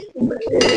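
A panch phoron tempering with crushed ginger is tipped from a hot kadai into dal being cooked with shol fish, giving a brief metallic clatter and then a loud, hissing sizzle burst.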